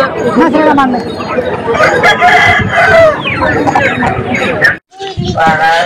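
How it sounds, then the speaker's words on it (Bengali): Native roosters and hens at a busy poultry market crow and cluck loudly and close, several birds overlapping, while people talk in the background babble. "আর এখানে আমি আপনাদের কয়েকটা মোরগ দেখাবো, বাঁধা আছে মোরগগুলো"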